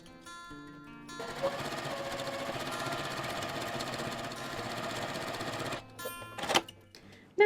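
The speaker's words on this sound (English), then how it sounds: "Now all I'm going to do is take my next red piece and sew it on." A sewing machine stitching red quilt pieces together for a patriotic stars-and-stripes table runner, running steadily for about five seconds at a fast whirring rhythm before stopping, followed by a few handling clicks.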